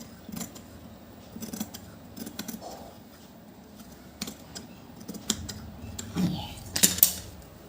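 Scissors snipping through fabric or paper during a tailoring cut, a series of short crisp clicks and snips spaced irregularly, close and fairly quiet, with a brighter burst near the end.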